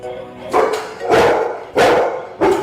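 A working dog barks four times in a steady rhythm, loud and close, each bark sharp with a short tail, with no talk over it.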